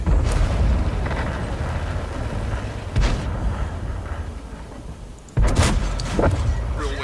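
Tank cannon in World of Tanks firing a HEAT shell from an M4 with a 102mm gun, heavy booms landing at about 3 seconds and sharply at 5.4 seconds over a constant rumbling battle background.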